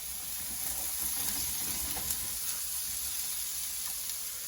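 Breakfast food sizzles and fries steadily in a frying pan, a continuous close crackling hiss with no talking over it.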